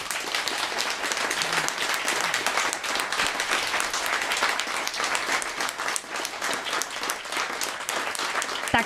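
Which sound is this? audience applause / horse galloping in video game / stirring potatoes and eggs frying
audience applause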